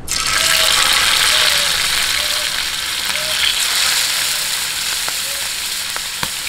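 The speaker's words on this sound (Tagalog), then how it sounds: "umpisahan na po natin yung pagpiprito" Milkfish fries loudly in hot oil with a dense, continuous sizzle and crackle, plus a few sharp pops and spatters near the end.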